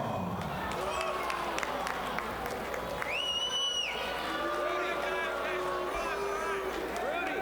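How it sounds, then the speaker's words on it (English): Boxing crowd at ringside reacting with mixed murmurs, scattered shouts and a sharp whistle after a draw decision. The arena noise is steady and moderately distant beneath a commentator's talk. "A little bit of a mixed reaction from the crowd."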